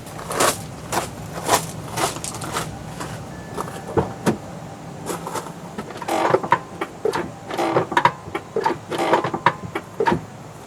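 The parking brake of a 2011 Nissan Altima is cranked during a rear brake pad and rotor replacement, producing a run of close, irregular ratcheting clicks and mechanical clunks that grows busier toward the end, with no one talking.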